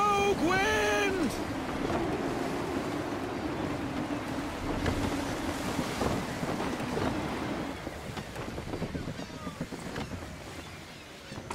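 Wind and waves wash around a sailing ship at sea in Assassin's Creed 3, a steady broad rush that runs the whole time, with voices calling out over it.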